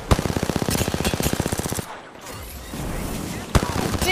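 Rapid machine-gun bursts from the Apex Legends video game, a dense rhythmic volley of close, loud shots that breaks off, followed by a quieter stretch of game ambience and another single sharp shot before firing resumes.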